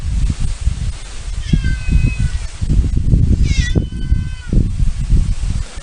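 Cats meow a few times close to the microphone, a short rising cry followed by a louder, longer wail, over a steady low fan rumble and rustling.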